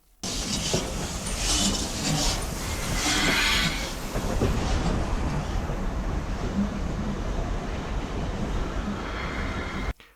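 A 136-ton German steam locomotive built in Berlin in 1943 at a heritage railway station, heard as a steady broadband rumble and hiss throughout, with rail clatter and faint squeals, loud and close, no talk.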